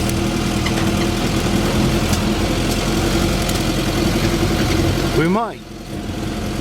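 A vehicle engine idles and runs steadily throughout a ride around a rural property. The low hum is constant and close, with speech over it near the end as the engine note briefly drops.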